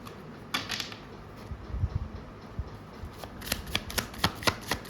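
Tarot cards are drawn and handled on a reading table, with soft papery slides and flicks, then a quick run of crisp riffling snaps near the end, fairly close with a low steady hum behind.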